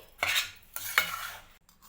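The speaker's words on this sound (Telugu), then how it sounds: "ఇదంతా బాగా కలుపుకోవాలి" A spoon stirs a thick sesame laddu mixture in a metal pan with the stove switched off, making three scraping strokes up close: one short sweep, then two longer drags, each followed by a brief pause, with no talking.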